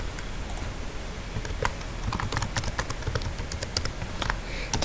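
Password keys tapped on a computer keyboard, a quick irregular run of close, crisp clicks heard alone over a low background hum.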